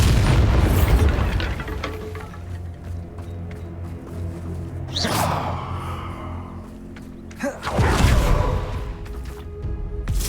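Heavy booms of the Bombarda blasting spell in the video game Hogwarts Legacy, two big bursts several seconds apart with rumbling debris and a low musical backdrop between them.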